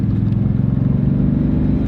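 An old Chevy Silverado pickup pulls along a country road, its engine a steady, close, low rumble heard from inside the cab, with no talking.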